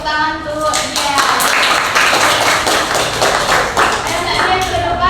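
Classroom applause breaks out after a pupil's correct answer in a primary-school lesson, a dense patter of many small hands clapping steadily for several seconds while voices carry on over it.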